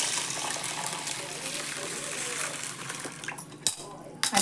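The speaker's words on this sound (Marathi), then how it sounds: "त्यात पाणी घालून घेते" Water is poured over pulses in a pot to soak them outdoors in a village kitchen, a splashing, clattering pour with a few sharp metallic knocks of the vessel near the end.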